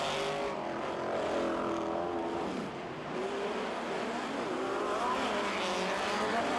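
Off-road cars race at a motor show, engines roaring continuously with rising and falling revs and a dense, loud rumble throughout, no voices.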